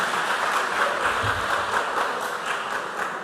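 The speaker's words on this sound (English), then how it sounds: "Clap for them, please." A school audience at a quiz competition quarter-final claps for a team after its round score is announced. The applause is dense, steady and fairly loud across the whole clip.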